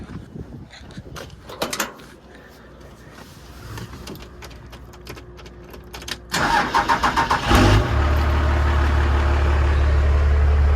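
A car engine, just back from work on its coolant system, cranks in a quick run of rhythmic pulses after a stretch of quiet handling noises, then catches and settles into a loud, steady idle.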